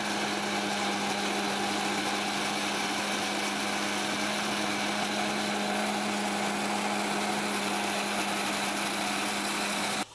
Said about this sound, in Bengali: ব্লেন্ডার করে নেব